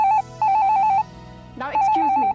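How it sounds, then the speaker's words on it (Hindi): A telephone rings in repeated electronic trills, two clear bursts separated by a short pause, loud and close. "टेलीफोन की घंटी बज रही है और शायद मेरा ही फोन होगा।"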